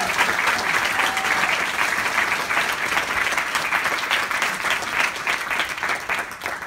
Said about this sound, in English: I think we should all give them a big round of applause.